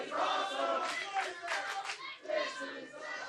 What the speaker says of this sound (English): I've never heard of "This Is Awesome" chant in the middle of a battle royal